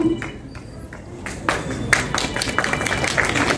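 An audience at the Basanta Utsab cultural event, organised by the Rabindra Bharati Society, claps in scattered bursts that swell into fuller, sustained applause with some voices underneath.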